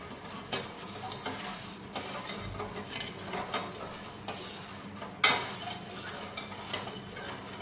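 A spoon stirs sugar into fruit custard in a pot on the stove, making soft repeated scraping strokes with faint clinks, then one sharper metallic knock against the pot near the end. Nobody speaks.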